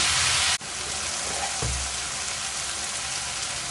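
Sri Lankan sambal ingredients sizzle in a hot pan with a steady, soft frying hiss; a brief stirring clatter comes partway through.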